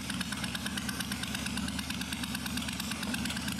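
Suzuki Intruder 1400 motorcycle engine idling with the choke on, a steady, dense low rumble with fast, even pulsing that holds without a break, close and loud.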